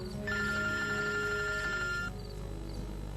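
A telephone rings in a Pakistani drama scene, a steady electronic trill lasting about two seconds before cutting off, loud over a low background hum.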